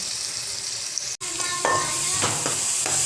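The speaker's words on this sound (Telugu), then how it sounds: "కారం ఒక స్పూన్ అల్లం వెల్లుల్లి పేస్ట్ ఇదంతా బాగా కలుపుకోవాలి" Chili powder and ginger-garlic paste being stirred into a fish curry in a pan, a close, steady sizzle with a few soft scrapes and clinks of the spoon, no voices.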